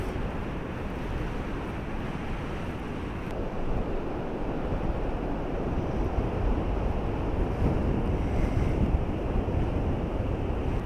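Steady, continuous roar of ocean surf rolls over an empty beach with wind buffeting the microphone, dense and unbroken throughout with no voices.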